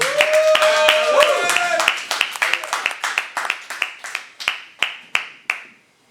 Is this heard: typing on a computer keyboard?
no